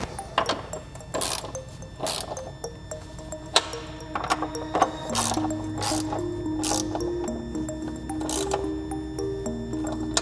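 A ratchet tightens bolts onto studs during an LS engine swap in a Scion FR-S, giving sharp clicking bursts in an uneven rhythm, close by with light clanks between.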